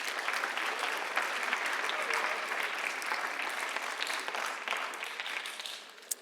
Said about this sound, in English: Can we give him just another round of applause?